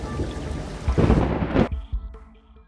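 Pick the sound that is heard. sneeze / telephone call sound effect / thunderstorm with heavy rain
thunderstorm with heavy rain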